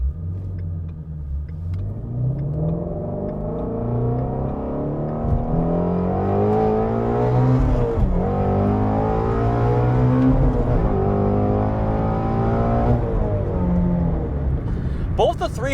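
2018 Shelby GT350R with a flat-plane crank V8 being driven, its engine droning loudly and continuously from inside the car, pitch rising and falling through acceleration and gear changes.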